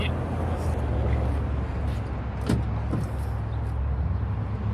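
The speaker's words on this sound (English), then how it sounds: "So when I drop down the tailgate, it's going to kick right out the bed step" Tailgate lowered on a 2024 Toyota Tundra Platinum pickup, with its power bed step motoring out; a soft thud and brief whirring mechanism over a steady outdoor rumble, no clear talk.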